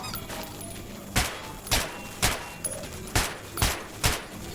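Gunfire in the video game Metro Redux: about seven sharp shots at a steady, slightly uneven pace over a low background hum, with no talking.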